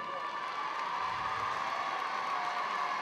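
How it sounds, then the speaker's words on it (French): An audience at a tribute gathering applauds and cheers in a steady, even wash of clapping, fairly faint and distant throughout. "Vos applaudissements, ils me viennent droit au cœur"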